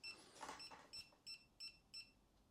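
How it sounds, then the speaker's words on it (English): Five short, evenly spaced electronic beeps from a Huepar ZK04CG Pro laser level out of level by more than 3 degrees, high-pitched and fairly quiet, following a brief rustle at the start. "It beeps."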